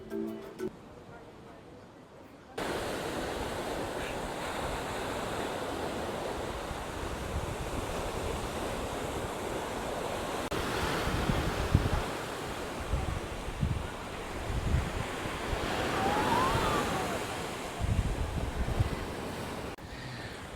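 Atlantic surf breaks along a French surfing coast, heard from a coastal footpath: a loud continuous wash of waves with rolling surges and heavy wind buffeting, and a voice talking over it.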